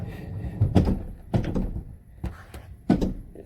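A van's sliding door rolls open and clunks into a door-holder bracket welded to its rail, giving several sharp knocks and thuds with rolling rumble between, close by.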